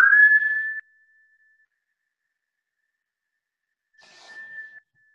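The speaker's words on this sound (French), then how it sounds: "Et t'expires par la bouche en sifflant, si tu peux siffler." A steady whistled tone from a breath pushed out through pursed lips during a yoga breathing exercise, followed by a long silence and a second, softer whistled exhale.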